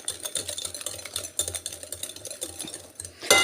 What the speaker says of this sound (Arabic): ندير الخويط الاول مع التحريك